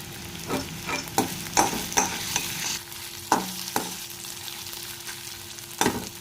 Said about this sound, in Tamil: அடுத்து காளானை பொரிச்சுக்கலாம்